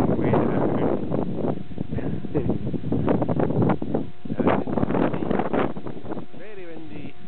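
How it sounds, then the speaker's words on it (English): Strong coastal wind buffets the microphone with a constant rumbling roar at Tantallon Castle, and people talk over it throughout. "Very windy."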